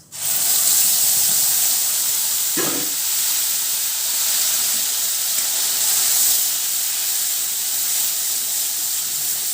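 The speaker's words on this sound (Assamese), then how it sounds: "সেই তেলখিনিতে মই পিঁয়াজৰ পেষ্টখিনি ঢালি দিছোঁ" Onion paste poured into hot mustard oil, the same oil used earlier to fry fish, hisses and sizzles in a steady, loud, continuous spit that fills the whole stretch with no talking.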